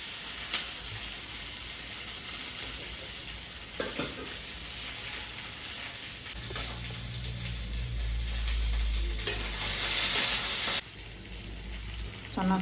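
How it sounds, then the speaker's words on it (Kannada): Green chillies fry in a pan of ghee with a steady, close sizzle and occasional stirring scrapes, rising louder toward the end with a burst of hissing. "ಹಸಿಮೆಣಸಿನ್ಕಾಯಿ ಉರಿತಾ ಇದೆ"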